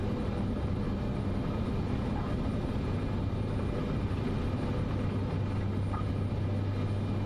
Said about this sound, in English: the Cessna just takes off on its own